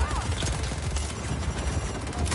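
Grenade explosions and gunfire in a GTA video game form a dense, loud, continuous barrage of overlapping blasts and shots with no pauses.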